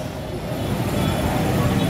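Manila LRT light rail train interior, a steady loud low rumble of wheels and motors running continuously without a break, with no talk.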